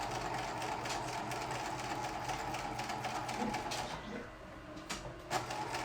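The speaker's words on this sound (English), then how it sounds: "forward stitch, a couple of stitches, and then back stitch, and then forward stitch again." A sewing machine stitching a fabric face mask, a steady close mechanical whir running forward, briefly pausing for back stitches before resuming.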